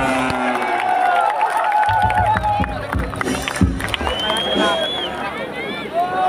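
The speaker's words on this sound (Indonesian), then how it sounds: "Oke, tepuk tangan." A crowd at an outdoor political rally on a village field cheers and claps, a broad babble of voices and shouts rising and falling over several seconds, with a voice over a loudspeaker and music tones mixed in.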